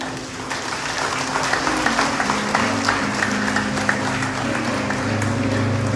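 Audience applause during an evening church service with a sermon, many hands clapping steadily under a sustained low droning tone that runs throughout.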